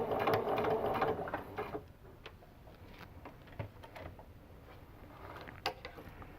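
A sewing machine runs a short stitch to finish a hexagon seam, loud and steady for about two seconds, then drops to quiet, scattered mechanical clicks and taps.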